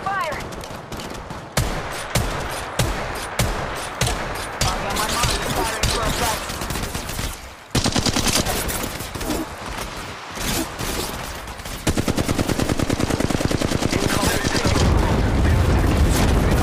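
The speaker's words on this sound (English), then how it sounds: "They're shooting at me. Taking fire." Rapid gunfire from Apex Legends Mobile crackles in loud, dense bursts, automatic volleys and single heavy shots overlapping continuously and close, with brief pauses between strings of fire.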